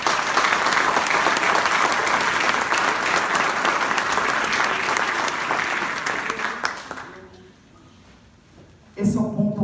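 An audience at a choir concert claps loudly and continuously for several seconds, a dense wash of applause that fades toward the end, followed by a speaking voice after a brief lull.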